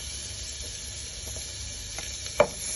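Garlic fries in a pan with a steady, soft sizzle, broken by a few faint clinks and one brief sharp tap near the end. No one speaks.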